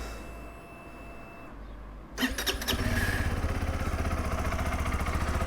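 A SYM NH-T 200 motorcycle, a 200cc bike, cranks with a short electric starter whine after ignition beeps, catches and settles into a steady, fairly quiet, throaty idle close by.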